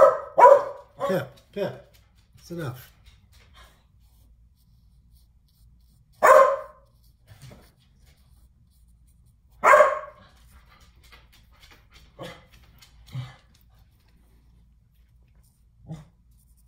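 Dogs barking at home in sharp bursts: a quick run of loud barks, then two louder separate outbursts, then a few softer yips. A person speaks briefly to them once.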